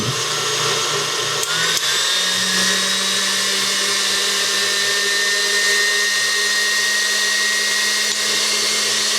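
An electric mixer whips room-temperature egg whites for meringue in a very clean bowl, a loud, steady, close motor whine that holds on without a break the whole time, with no talking.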